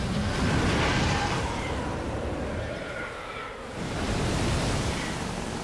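Rushing waterfall in the video game Metal Gear Solid 3, a steady broadband roar of falling water that dips briefly and swells back, continuous throughout.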